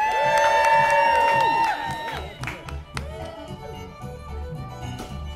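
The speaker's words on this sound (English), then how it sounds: "ladies and gentlemen, cheer on your blue team!" A crowd at a Canadian lumberjack show at Epcot cheers loudly for the blue team, with whoops and sustained shouts at first, then looser scattered yelling and clapping that settles into a lower, steady roar.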